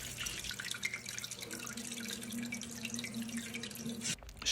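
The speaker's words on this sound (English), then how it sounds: "The fill valve is turned on." A toilet fill valve refills the tank after installation in a budget bathroom renovation, producing a steady close rush and hiss of running water with a faint dripping texture, cutting off abruptly near the end.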